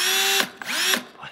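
A Milwaukee cordless drill is triggered in short bursts, its close, loud whine rising and dropping with a couple of brief stops and restarts, heard alone without talk.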